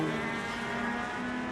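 A race car on the Charlotte Roval circuit in an open modified Legends division race, its engine droning loudly and steadily as tires squeal in a sustained skid while the driver briefly loses control.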